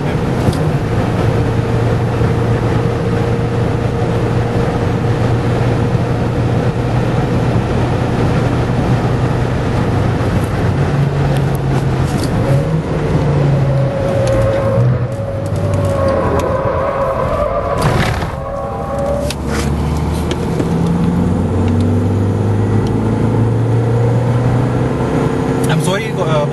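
Mahindra XUV500 SUV driven fast around the BIC Formula 1 track with the air conditioning off, its engine drone and shifting revs loud and continuous throughout, with a brief dip midway and occasional talk inside the cabin.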